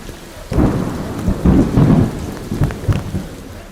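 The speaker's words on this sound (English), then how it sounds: "And then when the storm comes" Thunder rumbles in several heavy rolls over a steady wash of rain during an outdoor endurance race in New England, loud and close with no voices.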